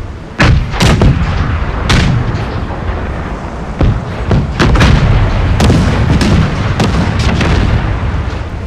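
Ship cannons fire in a naval battle in the video game Pirates!, a sequence of loud, booming shots with some overlapping, heavy rumble filling the gaps between blasts.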